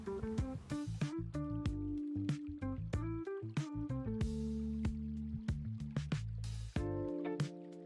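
Juice poured into a fresh watermelon drink gives a run of bright, gurgling, bubbling liquid tones, rising and shifting in pitch as the container fills, close and steady with no talk.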